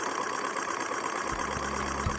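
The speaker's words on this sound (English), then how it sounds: "the engine is running okay" A small homemade Stirling engine runs at a steady, even idle, with a low mechanical hum and faint knocking pulses set against a constant background hiss.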